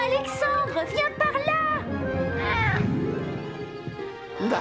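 A cartoon cat lets out several drawn-out, wavering meows and yowls, loud and close, mixed in with animated voices talking.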